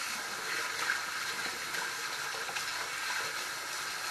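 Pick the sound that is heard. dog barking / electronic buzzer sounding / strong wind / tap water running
tap water running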